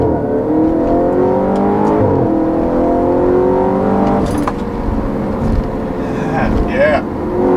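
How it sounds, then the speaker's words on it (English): A 2013 Audi RS5 engine revs loudly and close, pitch climbing and falling through gear changes up to 7,000 RPM, with sharp blips as it downshifts. "Those downshifts are so crazy."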